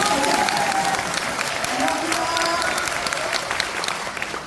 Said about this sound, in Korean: 그래서 박수 치고 내주시죠